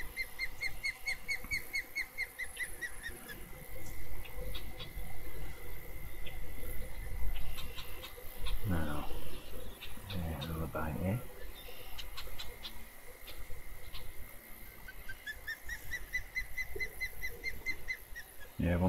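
Repeated croaking bird calls from the Everglades map of the fishing video game Fishing Planet sound in rhythmic bursts among other ambient wildlife game sounds, moderately loud and persistent.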